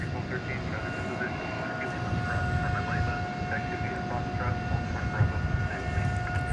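Steady broadband roar of an airliner arriving at DFW Airport at night on a flight from Las Vegas, a continuous engine rumble with a sustained tonal whine on top, holding level throughout.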